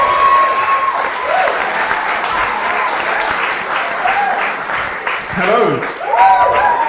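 A comedy-night crowd gives a warm round of applause as a stand-up comedian is introduced, sustained close clapping with scattered whoops and a brief spoken greeting near the end.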